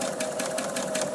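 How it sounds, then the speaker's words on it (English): A sewing machine runs steadily and close by, its fast even whirr and rapid needle rhythm filling the moment as it stitches a Winding Ways quilt block, with no talking. "you're just stitching here all the way down to the notch"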